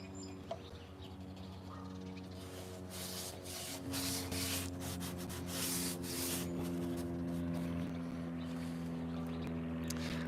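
A brush working a thick finish coat into the seams between wooden bar-top boards, heard up close as quick scratchy strokes in bursts over a steady humming tonal background.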